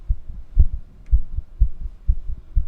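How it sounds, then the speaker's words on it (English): A heartbeat thumps in a steady, fairly quick rhythm of deep, muffled double beats, close and clear with a soft hum underneath and no talking. "your heartbeat hasn't slowed back down"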